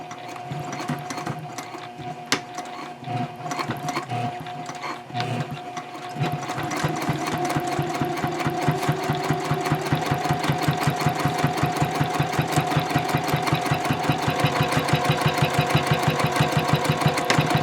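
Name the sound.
sewing machine stitching a messenger bag fold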